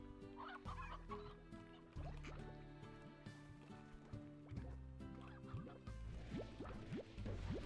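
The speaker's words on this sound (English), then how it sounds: "Leave my chickens alone." Cartoonish chickens cluck and chirp repeatedly in the video game Slime Rancher, heard close over a busy game soundtrack of steady tones and chimes.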